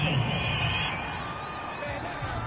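A home crowd at a football game cheers a penalty call, a broad roar with whoops and shouts that dips slightly, then swells again.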